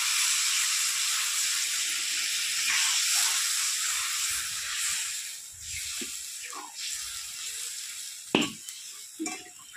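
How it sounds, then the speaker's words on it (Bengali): Water hits a hot pan of potatoes fried in spices for a chital fish kalia, a loud broad hiss and sizzle of steam that gradually fades, followed by a few sharp clinks and stirring taps. "এবার আমি জল দিয়ে দিচ্ছি।"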